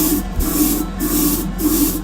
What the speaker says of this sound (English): Keep it so I'm spraying into the fan, the air filter.